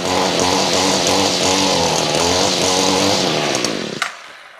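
A small engine on a mower that barely started, idling steadily with a rough, buzzing chainsaw-like drone close to the mic, then cutting off abruptly near the end with a brief clunk.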